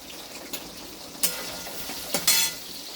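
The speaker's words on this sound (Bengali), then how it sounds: "বেগুনটার মধ্যে এবার একটু নুন হলুদ দিয়ে ভাজবো" Eggplant pieces fry in hot oil with salt and turmeric, giving a steady low sizzle with a few sharp scrapes and clinks of a spatula against the pan, no voices.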